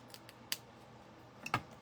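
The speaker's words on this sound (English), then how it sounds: "So I went up the middle with my scissors, and then I'm coming in from each corner" Scissors snipping a small paper tag, cutting up the middle and in from the corners: a few faint, close, sharp clicks, with two distinct cuts about a second apart in a quiet room.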